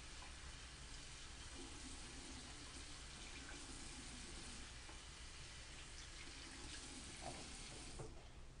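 Tap water runs steadily over a makeup brush being rinsed at a bathroom sink, a continuous close splashing hiss that holds for the whole stretch with no talking.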